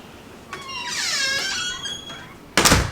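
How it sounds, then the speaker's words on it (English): A house door squeaks shrilly for about two seconds as it swings shut, a rising and falling creak close by, ending in a sharp thud as it latches. "I'm gonna close the door."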